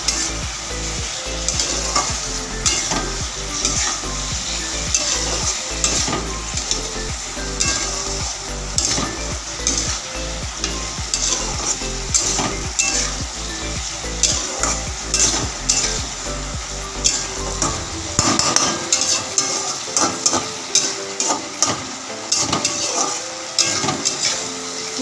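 Chicken pieces being stirred with spices in a hot pan, sizzling steadily with frequent scraping and stirring strokes, close and continuous, alone without talk.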